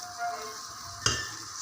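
Cauliflower and meat for gobhi gosht frying in a pot, a steady soft sizzle with a single sharper clatter of stirring near the end, close and alone.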